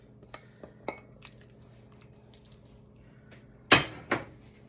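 Sausage and bacon clatter back into a metal cooking pot for a Zuppa Toscana soup, a couple of sharp clanks and a soft thud standing out near the end over faint kitchen clinks.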